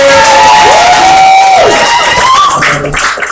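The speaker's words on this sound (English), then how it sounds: "we're gonna welcome to the stage with a warm round of applause" An open mic crowd cheers, whoops and applauds loudly as a performer is welcomed to the stage, with a voice over the noise near the start.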